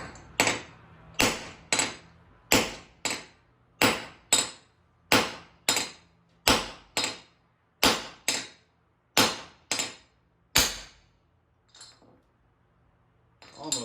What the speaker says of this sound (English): take yourself a hammer, get that lined up, and then you're just going to smack it a couple of times until it's flush